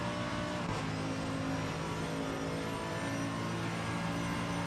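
BMW race car engine in a racing video game, a steady, loud, droning roar that holds at a fairly constant pitch with no clear gear shifts, continuous throughout and free of speech.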